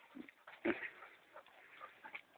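A dog whimpers and grunts softly beside a roof as it is coaxed up, with short faint whines and snuffles, one sharper yelp in the middle, close but quiet.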